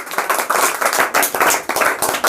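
A classroom of students claps steadily and briskly, a dense burst of applause filling the whole moment with no voices over it.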